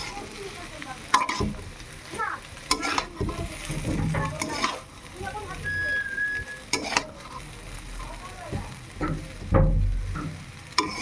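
Chow mein frying in a pan while being stirred, with repeated scraping and clattering strokes over a soft sizzle and occasional louder knocks.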